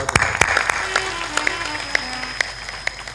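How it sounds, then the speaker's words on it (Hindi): An audience at a spiritual discourse gives scattered, uneven claps for an event organizer, with sharp individual hand strikes standing out over a faint murmur and a sustained tone. "ताली बजा दो।"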